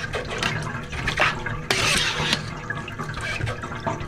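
Melted rendered lard being poured through a filter and stirred to speed it along, giving a steady close liquid trickle with splashy gurgles and a brief louder gush partway through.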